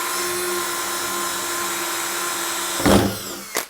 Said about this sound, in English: first I want to cut both of my holes for my RO production that's going into your tank